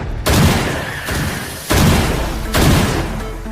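Four heavy gunshot-like bangs at a target shooting contest, evenly spaced about a second apart, each a loud booming thump that decays slowly.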